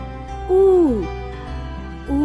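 An owl hoots twice, a loud descending call followed by a shorter one near the end, each clear and close over a low steady background hum.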